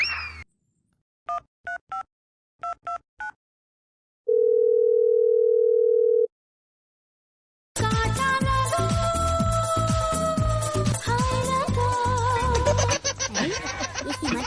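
A few short touch-tone beeps sound, then a steady telephone dial tone holds for about two seconds, followed by loud music.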